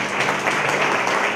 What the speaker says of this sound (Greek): Ένα χειροκρότημα για σας.